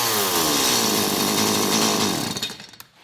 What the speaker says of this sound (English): this carburetor conversion on this, it makes it such a lot better saw